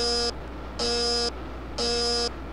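An alarm in the Virtual Engine Room marine simulator, raised by a nearly full oil collection tank, sounds three evenly spaced loud electronic buzzer tones, each about half a second long, over a low steady machinery hum.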